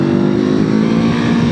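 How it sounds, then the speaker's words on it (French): A Honda CB500F motorcycle, a 2019 A2-licence model with 47 horsepower, pulls hard in second gear as the revs climb from about 6000 toward 8000 rpm. The engine drone is loud, steady and close, with no talk over it. "je suis en seconde, ça repart. On est à 6000 tours, 7000 tours, 8000 tours"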